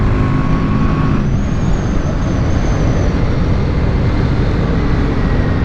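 A BMW G310 R motorcycle riding at speed, its engine drone steady and loud under heavy wind rush that fills the whole clip without a break.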